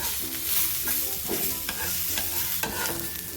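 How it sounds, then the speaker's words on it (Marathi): Cloves, black pepper and cinnamon dry-roasting in a pan, with steady stirring and scraping plus a light rattle of the whole spices, close and continuous with no speech. "छान असा भाजून घे व्यवस्थित सगळं"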